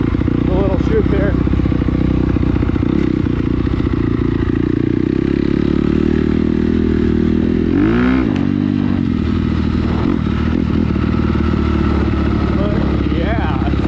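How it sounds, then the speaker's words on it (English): A 2016 Honda CRF250R dirt bike runs along a trail, its engine droning loud and continuous throughout, with a brief rev swell and some clattering from the ride. "here's the old 250R CRF. It's a 2016."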